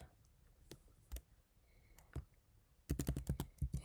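Python code typed on a computer keyboard, close clicking keystrokes: a few scattered taps, then a quick rapid run of typing near the end, with no talking.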